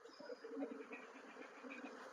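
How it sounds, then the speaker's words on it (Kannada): Honeybees buzzing as they are released by hand near the hive in a garden, a steady soft droning hum with faint shifting pitches, fairly quiet and continuous. "ಜೇನು ತೆಗೆದಿದ್ದು ಈಗ ಕೈಯಲ್ಲಿ ಎತ್ತಿ ಬಿಡ್ತಾ ಇದ್ದಾರೆ ನೋಡಿ"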